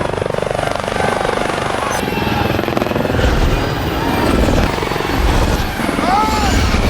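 A helicopter's rotor thumps loudly and continuously as it flies and collides with another helicopter, with a rising whine and metallic scraping near the end.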